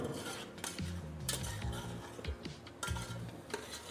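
Spiced country chicken stirred in a pot for biryani: a continuous close scraping and rubbing of a spoon against the pot base, with occasional metallic clinks and a steady background hum throughout.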